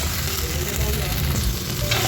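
Eggplant frying in hot oil, giving a steady, dense sizzle with a faint stirring texture, close and continuous with no voices.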